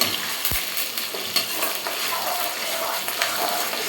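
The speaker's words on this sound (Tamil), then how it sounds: "கருவேப்பிலை சேர்த்துக்கோங்க. இந்த வெங்காயம் வந்து நல்லா வதங்கணும்." Onions and curry leaves sautéing in a pan on a home kitchen stove, giving a steady close sizzle with scattered scraping stirs and a brief low thump.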